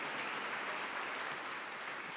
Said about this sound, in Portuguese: Vamos aplaudir a palavra de Deus bem forte